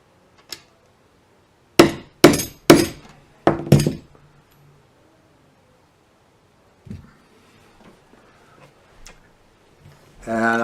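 A hammer taps a socket fitted over a banjo tuning peg to seat it in a Wes Player banjo build: a quick cluster of five sharp, close metallic strikes, then a few faint knocks and a louder clatter at the end.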